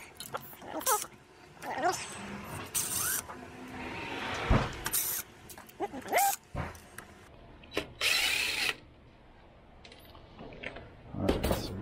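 Short bursts of a power drill whirring in and out, removing security screws from a Rad Power Bikes electric bike, several separate runs with pauses, close by, alongside clinks and handling noises.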